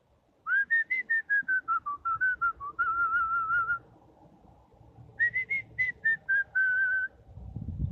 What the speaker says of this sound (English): He likes when I whistle though. I taught him how to whistle.